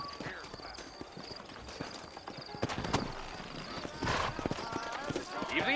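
Horse hooves clip-clop steadily in the Red Dead Redemption video game, a close trotting rhythm running under a voice with occasional louder bursts.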